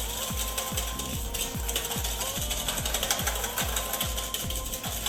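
Eggs being beaten with sugar for a Corsican fiadone, likely with an electric mixer: a steady mechanical whir with a fast, regular rattling pulse, loud and close, with no talking.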